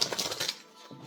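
Tarot cards shuffled in a quick burst of dense, papery riffling that fades briefly before picking up again, close and moderately loud with no talking.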